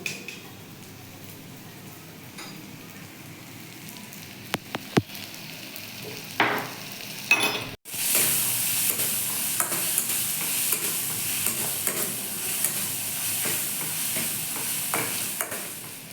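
A spice paste of turmeric, chili and cumin powder mixed with tomato fries and is stirred in a pan. Scattered scrapes and clinks lead into a loud, continuous sizzle with steady stirring scrapes, close and with no talking.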